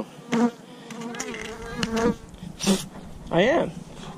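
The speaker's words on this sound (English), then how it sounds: "There's a bee." A bee buzzing close by at a zoo, with loud wavering buzzes that come and go in several bursts as it passes near, and brief voices between them.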